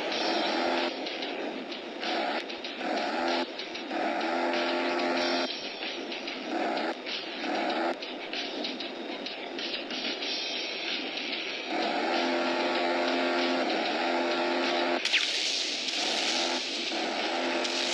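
Engine of the player's F2 HX plane in a video game, a steady droning whine with tonal layers that keeps running throughout. A few brief cut-outs break it, and the tone turns harsher and brighter near the end.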